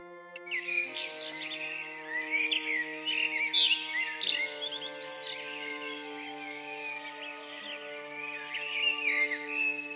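Small birds chirp and tweet in a rapid, busy chatter over a steady tonal hum, continuing throughout with no talk.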